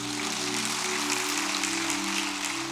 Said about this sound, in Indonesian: Kalau yang setuju sempurna beri tepuk tangan dulu deh.